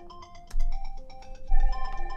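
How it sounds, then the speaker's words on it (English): An incoming call sets off a phone ringtone, a bright electronic melody of short chiming tones that repeats in a steady pattern, clear and alone, with no talking. "I have a phone call."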